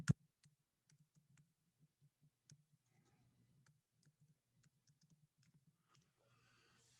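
A username and password being typed on a computer keyboard: sparse, quiet clicking keystrokes in irregular bursts, faint and close, with one sharper click at the start and no talk.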